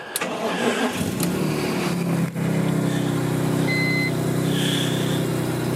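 A used car with heated seats and 108,000 miles starts up and settles into a steady idle as it warms, loud and close, with a brief dip before the engine hum evens out.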